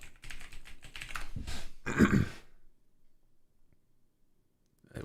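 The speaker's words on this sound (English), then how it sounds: "Nice typing, bro." Rapid keystrokes on a computer keyboard fill the first two seconds, a dense burst of clicks that ends abruptly and leaves near silence with one faint tap at the close.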